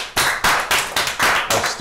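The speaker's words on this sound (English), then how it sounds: "I just want to give another round of applause to all of you," A studio audience at a televised talk program claps in a steady, evenly spaced rhythm, loud and close, with no talk over it.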